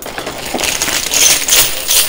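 Coins clatter and spill into the loot chute of a high-limit coin pusher arcade machine, a dense burst of metallic jingling and clinking that swells louder toward the end, with no talk.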